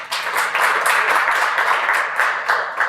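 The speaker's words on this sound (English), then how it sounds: "So please give them a big round of applause." A large audience at a computing summit gives a sustained round of applause, dense clapping filling the room at steady loudness for the full stretch with no talking over it.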